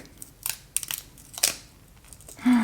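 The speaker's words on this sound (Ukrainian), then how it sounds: "відкриваємо тепер цей пакетик" A paper advent calendar packet being torn open by hand, several short crisp rips and crinkles close up, ending with a brief voice.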